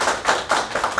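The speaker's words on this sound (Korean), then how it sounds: "지금까지 패널 토론에 참석해 주신 모든 분들께 다시 한번 큰 박수를 부탁드리겠습니다" Audience clapping after a panel discussion at a metaverse forum. It comes as a brief run of distinct, sharp claps from a small group, quick and close together, with no voices over it.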